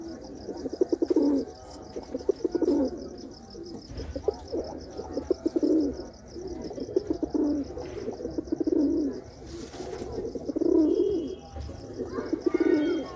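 A newly released pair of pigeons coos close by in repeated, rhythmic rounds of soft throaty calls, with brief pauses between bouts and a few faint chirps.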